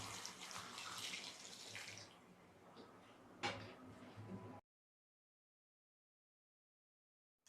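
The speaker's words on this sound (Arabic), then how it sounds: "بنحط على التمر 6 أكواب ماء مغلي" Boiling water is poured from a cup over dates in a kitchen, making a steady close splashing stream that thins out, with a small clink, and then stops.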